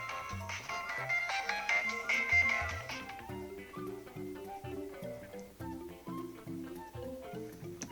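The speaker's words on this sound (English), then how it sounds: "You already know what my ringtone is. It's Luigi's Mansion on Dark Moon." A phone ringtone plays a bouncy melody from the Luigi's Mansion: Dark Moon tune, with repeated low notes under brighter chimes, steady and fairly clear with no talking.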